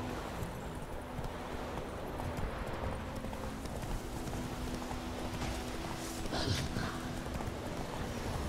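Roach, a horse in the video game The Witcher 3, gallops in a quick, steady clip-clop of hooves that stays fairly quiet, with a soft rush of wind behind it.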